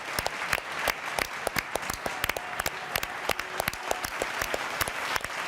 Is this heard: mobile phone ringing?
no